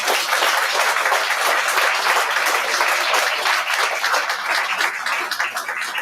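Audience applause at a university graduation ceremony, a dense, steady wash of many hands clapping that stays loud and continuous throughout.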